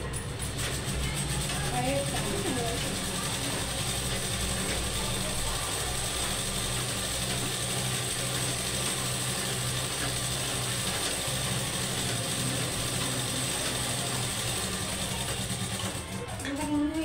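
A sewing machine stitches a blouse seam with a continuous, fast mechanical whirring and rattling that runs steadily at close range for the whole stretch.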